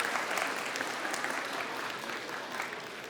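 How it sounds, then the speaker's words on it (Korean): A church congregation claps together during a Sunday afternoon service, a steady dense patter of many hands that holds evenly for a few seconds before easing slightly at the end. "박수하겠습니다"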